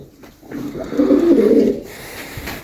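Pet pigeons kept in a loft give a low, throaty coo that swells for about a second, close to the microphone over quiet background noise.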